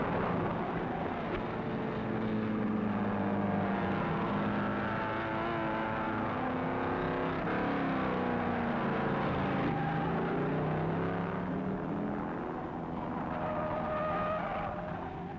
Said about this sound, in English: Beira sends his Maserati screaming after the leader as they come past the pit.